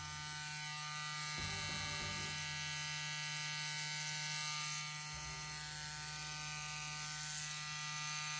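CNC WE wireless tattoo machine running at its highest voltage gives off a steady, high-pitched electric buzz with a constant hum. Faint handling knocks sit under it.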